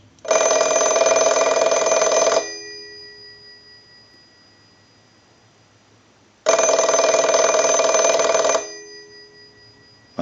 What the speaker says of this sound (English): we'll use the analyzer and ring the telephone